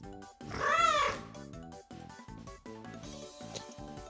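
Cat in the visual novel Princess Evangile, giving one clear, drawn-out meow near the start over light background music, which then carries on alone.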